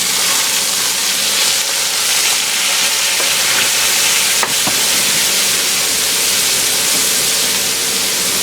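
Onions, carrots and celery sizzle steadily in rendered bacon fat for a clam chowder, a loud continuous frying hiss close up with a few small pops and no talking.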